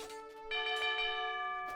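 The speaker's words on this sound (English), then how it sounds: "And the town bell has been rung again." In the Age of Empires 2 strategy game, the town bell rings out as a clear, sustained metallic tone with a second strike partway through, heard alone and fairly quiet.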